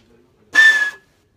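A handmade zurna reed squeals on its own like a duck call, one short, bright, piercing tone of about half a second after near silence.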